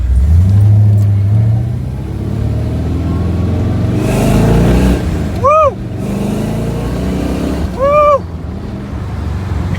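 A 1969 Corvette engine roars loud and close, low rumble building as it accelerates, with a voice whooping over the engine midway.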